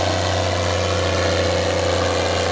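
The six-cylinder 6.6-litre 8150 Turbo tractor engine at a tractor pull holds a steady, loud drone with a deep hum and an even, unchanging tone.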